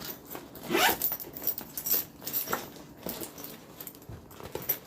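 The zipper on a handmade zip-around wallet is run back and forth in several quick, close rasping pulls of uneven length.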